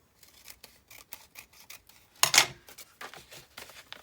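Scissors cutting paper while making junk journal pockets, a series of quick close snips in an uneven rhythm, with one louder, longer cut partway through.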